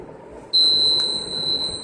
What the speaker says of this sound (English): Here alarm will rises.